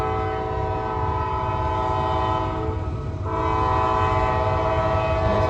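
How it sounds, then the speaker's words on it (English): A Norfolk Southern freight train passes in Gaffney, South Carolina, its horn sounding as a steady, loud blast under a continuous rumble of rolling railcars, the horn briefly dipping midway before resuming. "Must be a really big train tonight."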